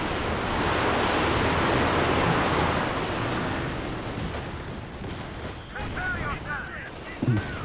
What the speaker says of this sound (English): Panzer J's taking pot shots at those riflemen